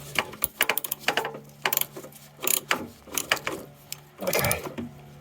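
A socket ratchet tightens a bolt in a cramped spot, giving bursts of quick metallic clicking with short pauses between strokes and some clanks of tool against metal, close by with no talk.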